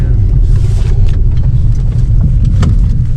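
A Mercedes car driving on the highway toward Los Molinos after repair work: a steady, loud low engine and road rumble with constant wind and tire noise throughout, with faint voices briefly under it.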